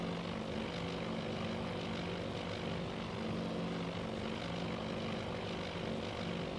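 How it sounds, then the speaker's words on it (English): Propeller-driven torpedo bombers diving toward a target in the naval strategy game Task Force Admiral, giving a steady, dense droning engine roar that holds at a constant level throughout without any break. "I assume these are torpedo bombers now diving down toward the target to get to a lower level for their runs."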